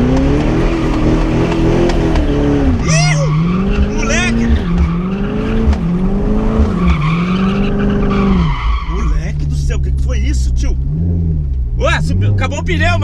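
A Corvette drifts in loud, sustained tire squeals over a roaring, revving engine whose pitch rises and falls with throttle. The skid continues almost unbroken throughout and sounds very close.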